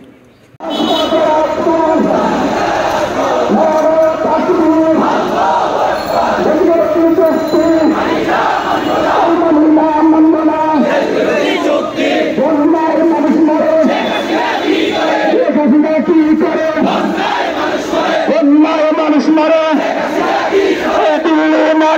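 A large protest march crowd in Bangladesh chants slogans in loud, rhythmic unison that continues unbroken for over twenty seconds, voices massed together and close.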